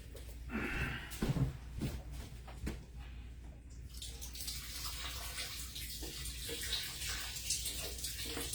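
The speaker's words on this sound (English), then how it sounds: "I'm going to go ahead and add water" Water is poured into a mead mixture of honey and water, a steady splashing, gushing fill from a tap or jug, close and continuous with no talk over it.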